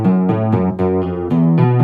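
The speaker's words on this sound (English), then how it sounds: "then we have chorus, which I'm sure you've all heard before" A harpejji is played through a chorus pedal, bright plucked notes in a quick stepping line with a shimmering, doubled tone, loud and alone.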